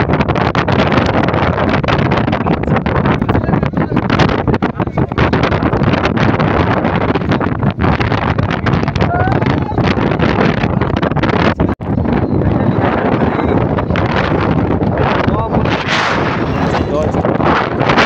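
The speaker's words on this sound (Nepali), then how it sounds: "हावा चलेछ" Strong wind buffets the microphone in a constant loud roar with gusts and thumps, outdoors in hilly Baglung during Holi, with no clear voices above the noise.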